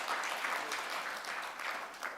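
Audience applause after a talk at an international development cooperation conference, a steady wash of many hands clapping throughout, fairly distant and even, with no voices over it.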